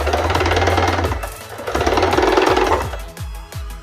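A sewing machine stitching down a folded fabric edge on a blouse rope, its needle thumping in quick bursts of rapid rhythmic clatter, pausing briefly between runs and slowing to separate beats near the end.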